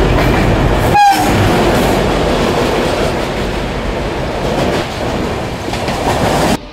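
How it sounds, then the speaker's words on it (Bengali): A passenger train pulls out of a station, a loud rolling rumble with wheel noise and a brief horn or squeal near the start, continuing steadily close by without speech. "এই ট্রেনটায় যাওয়ার কথা ছিল, কিন্তু এই ট্রেন ভাই ছেড়ে বেরিয়ে যাচ্ছে"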